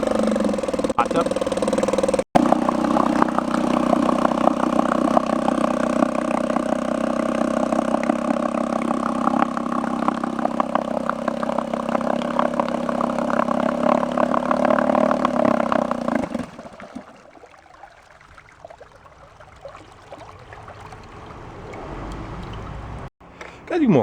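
A 1949 Gale 1.5 horsepower outboard motor on a cold start, running with a steady buzzing drone for about sixteen seconds and then cutting to a quieter, fainter hum.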